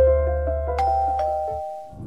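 A doorbell chimes inside a Minecraft game, a clear two-tone ding-dong ringing out loud and close, its tones ringing on and fading over about a second and a half.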